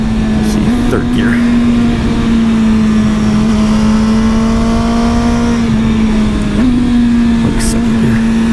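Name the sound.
Yamaha R1 motorcycle accelerating in third gear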